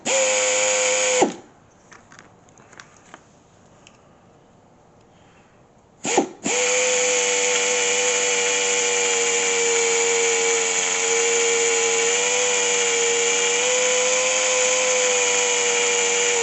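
A power drill bores through cooling hoses during a C3 LS-swap cooling system repair, giving a steady, close, high-pitched whine that stops briefly, sputters in short bursts, then resumes and runs continuously to the end.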